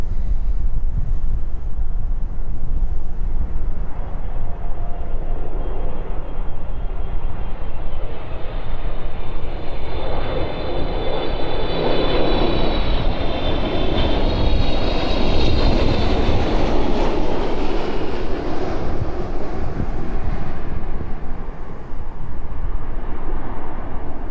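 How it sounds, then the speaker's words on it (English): A Boeing 777 cargo plane from Bengaluru lands at East Midlands Airport, its jet engines a loud sustained roar that swells and rises in pitch as it passes overhead, with gusty wind across the microphone. "Landing in safely then this afternoon, the 777 in from Bengaluru."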